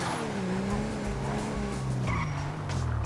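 A car in GTA / FiveM drives hard with a steady, droning engine and a continuous squeal of skidding tires, loud and close throughout.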